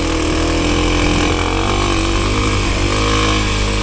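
A Kawasaki KLX 300 dirt bike climbing a steep hill, its single-cylinder engine labouring loud and close in a constant, strained drone.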